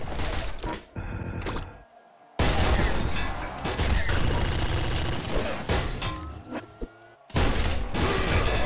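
Bursts of double-shot gunfire from the video game Nuclear Throne, with rapid loud blasts, a short near-silent gap, then dense continuous firing and another sharp burst near the end.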